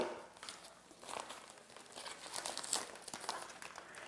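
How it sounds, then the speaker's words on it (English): Scissors snip through clear and pink jelly ribbon folded lengthwise, giving close, steady crinkling and rustling of plastic with small sharp snips, with no voices. "just fold it lengthwise and then cut on the fold away from you"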